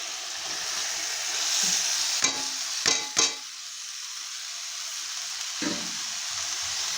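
Boiled banana flower is stirred into fried spice paste in a pan with fish head, giving a steady close sizzle broken by a few scraping clanks of a spoon against the pan.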